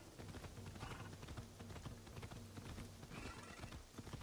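Steady clip-clop of a horse's hooves walking at a leisurely pace in the Assassin's Creed Shadows video game, rhythmic and close, over a dense bed of ambient game sound.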